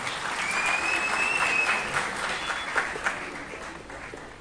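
Audience applause at a ceremony onstage, where officials are invited up at a documentary gala about the Nisibis Academy; steady clapping fills the whole span at moderate loudness and gradually thins toward the end.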